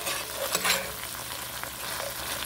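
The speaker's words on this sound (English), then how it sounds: "Let's stir that all in there." Thick tomato sauce being stirred in a pan for chicken parmigiana, soft scraping strokes over a continuous low sizzle, close and moderately quiet.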